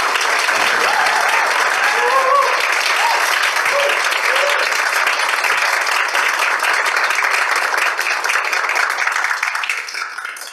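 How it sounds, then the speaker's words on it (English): Audience applause for the panelists after a Harvard Law Review discussion: a full, close wash of many hands clapping that stays steady, then tapers slightly at the end. "give a round of applause for our panelists"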